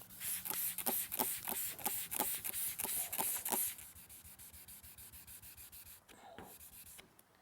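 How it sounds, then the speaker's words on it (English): Wet sanding with water to remove a scratch, quick rhythmic short rubbing strokes close up, strong at first and then softer and more continuous, heard alone without talk. "Again, simply sand and irrigate. Small strokes."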